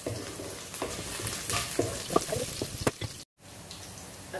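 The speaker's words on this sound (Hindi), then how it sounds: "देखिए प्याज ने ब्राउन होना शुरू कर दिया है।" Onions and green chilies frying in a pan for a Dhaba-style mixed vegetable dish, a soft continuous sizzle with scattered pops and stirring scrapes, fairly quiet and close, ending in a brief silence.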